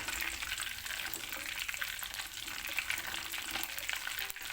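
Onions frying with ginger garlic paste in a pan make a continuous, dense sizzle with crackling bursts, close and steady throughout, while dosa chutney is being made; nobody speaks.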